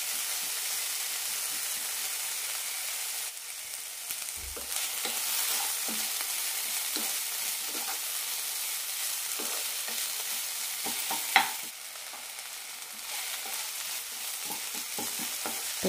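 Tomatoes sautéing in a pan for cabbage chutney, with a steady close sizzle and frying hiss under intermittent spoon stirring and scraping against the pan, no voices.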